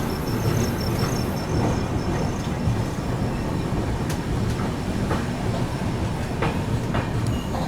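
The 22412 Arunachal AC Superfast Express runs through Gonda Junction without stopping. Heard from on board, it makes a loud, continuous rumble with rhythmic wheel clatter and occasional sharp rail clicks.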